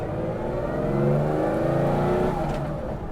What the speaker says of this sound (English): I can't wait to get the revs up on this thing